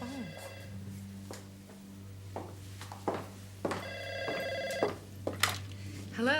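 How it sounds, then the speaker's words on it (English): A telephone rings in repeated bursts with clear, fairly loud tonal chimes over a steady low hum, with short gaps between rings. "It's only the phone."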